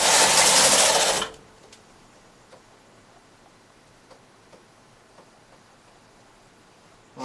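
A knitting machine carriage slides across the needle bed for double jacquard in one loud, rushing sweep lasting about a second, followed by quiet with faint scattered clicks.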